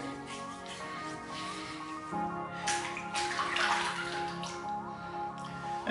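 Tap water runs steadily from a faucet into a sink while a man wets his face before a wet shave with a boar brush and soap, a continuous near splashing wash with no talk.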